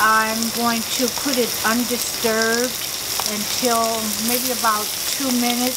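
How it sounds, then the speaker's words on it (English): Shrimp fry in a skillet over medium-high heat, a steady close sizzle running continuously beneath a person's talking voice. "I'm going to put the shrimp in a medium-high skillet"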